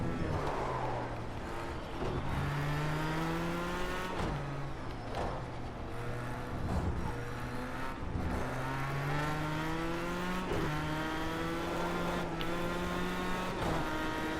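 A race car engine in a video game revs up in repeated climbing pitches, dropping sharply at each downshift and then winding up again, steady and close with no talking.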